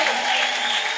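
A church congregation claps for God in a brief, dense burst of applause, loud and steady from start to finish.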